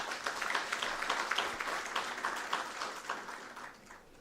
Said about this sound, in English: A big round of applause to MEC.